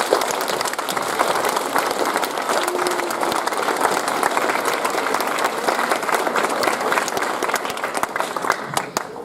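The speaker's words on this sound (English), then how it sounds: "Another huge round of applause for all our prize winners," A school audience at a Year 9 prize-giving ceremony claps loudly for the prize winners and performers, with a sustained, full burst of applause that tapers slightly near the end.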